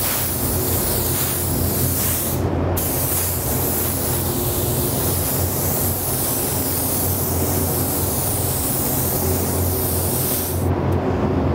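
A spray gun lays a final coat of candy paint in a steady, loud, close hiss that runs almost unbroken, with two brief gaps where the trigger lets off; nobody speaks.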